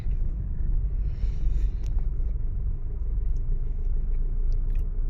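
A car in second gear, driven by a learner, rolls along at low speed. A steady low road rumble and engine hum fill the cabin, with a few faint clicks and taps over it.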